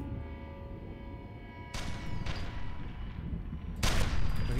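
Gunfire in the video game F.E.A.R 2, with a sniper rifle in use: sharp, loud shots at about 1.7, 2.3 and 3.8 seconds over a steady game backdrop, with no talking.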